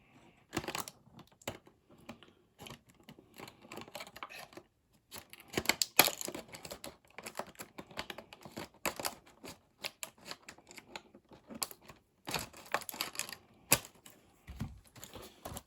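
Scissors cutting a printed cardboard card back from a Marvel Legends Spider-Man villain figure package: quiet, irregular snips and crinkly rustles in short bursts, close and with no speech.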